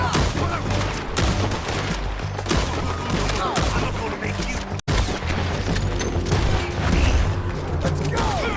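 Dense gunfire rattles through a video game shootout in Red Dead Redemption 2, with rapid overlapping shots, booms and impacts throughout and a brief cut to silence midway.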